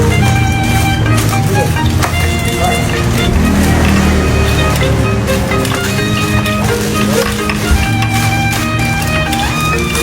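A newly built 400cc engine runs loud and steady close by, its continuous hum holding an even pitch from start to finish.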